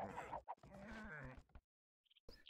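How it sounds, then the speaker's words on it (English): Sheep bleating in a real-time strategy game: a couple of clear, nasal bleats close up, followed by short clicks and silence. "And it looks like Teal found a bunch of sheep."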